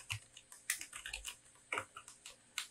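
Fingers typing a file name on a computer keyboard, a short run of quiet, irregular key clicks with small gaps between presses, close and faint with no talking.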